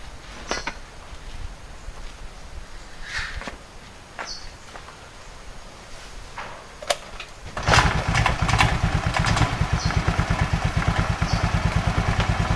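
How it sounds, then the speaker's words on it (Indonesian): A Honda Vario scooter engine is started up close, catching after a few clicks and settling into a steady, rapid idle rhythm; earlier there are only faint workshop clanks. "mesin saya hidupkan dulu."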